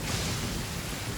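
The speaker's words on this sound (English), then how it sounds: "Uh-oh! Lightning storm!" Dense, steady rain with a low rumbling undertone fills a brief moment of a thunderstorm in the video game Genshin Impact, uniform and enveloping without breaks.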